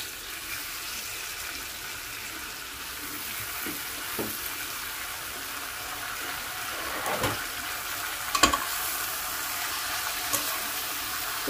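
Water spinach greens frying in oil in a pan over a lowered gas flame, making a steady hissing sizzle with occasional soft clinks and stirring knocks.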